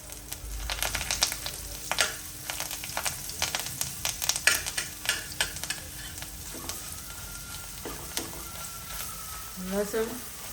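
Asafoetida, curry leaves and garlic chutney hit hot oil for a bhungala bateka masala, giving a crackling sizzle with repeated sharp spoon scrapes and clinks against the pan, fairly close and moderately loud, ending in a few clattering knocks.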